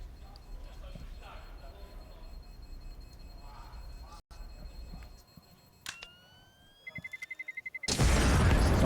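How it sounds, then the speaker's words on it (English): An explosion in a Counter-Strike match on the Nuke map at a professional esports tournament: a loud burst at the end follows clicks and rising tones under a caster's commentary and crowd noise. "Nice little explosion on Apple."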